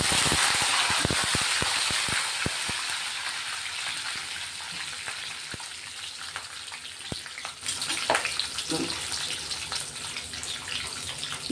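Curry leaves hitting hot oil in a home kitchen pan while cooking a breakfast dish, giving a loud, steady crackling sizzle with sharp pops early on that settles into a continuous hiss.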